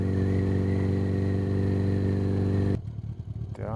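A custom bobber motorcycle engine runs steadily with a droning, harmonic note, then cuts abruptly to a lower, uneven idle and a brief rev as gears change.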